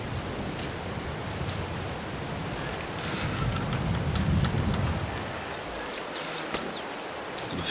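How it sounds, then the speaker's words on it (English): Rain falls steadily outdoors, a broad, even hiss of drops with a few sharper patters, heard moderately loud throughout with a low rumble underneath and no talking. "Put it in the shed out of the rain."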